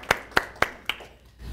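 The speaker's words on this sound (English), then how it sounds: "Give her a round of applause." Four distinct hand claps ring out in an even rhythm at a workplace gathering, close and fairly crisp, trailing off into quiet, more like a few people than a full crowd.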